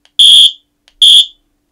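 A Junction Fresion electronic sports whistle gives two short, loud, shrill electronic beeps with a pause between them, alone without talk.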